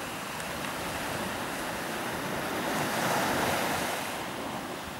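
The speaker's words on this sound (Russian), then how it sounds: "Ань, волна вот идет" Ocean waves on the southern coast of Koh Samui, Thailand, wash and break in a continuous roar, swelling louder near the middle, with wind noise over the microphone.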